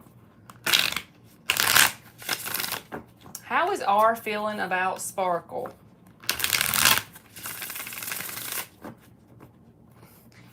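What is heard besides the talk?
shuffling tarot cards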